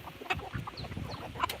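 Several chickens cluck in short, scattered calls close by at a farm feeding time, with hens pecking around in the open.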